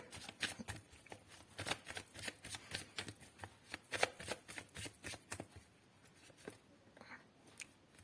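Tarot cards being shuffled by hand, a close, quiet run of crisp riffling flicks and taps in an uneven rhythm that thins out toward the end, with no talking.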